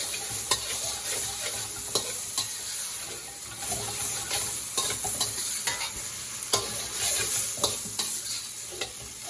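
Shrimp with onions and peppers stir-fried in a pan for Sri Lankan devilled prawns, a steady loud sizzle broken by regular scraping and clacking of the spatula, with no talking.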